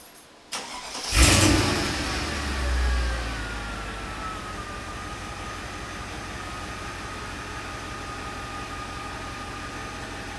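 A Mercedes CLS55 / E55 V8 cranks briefly, catches with a loud rising burst, then drops into a steady, even idle that carries on close by.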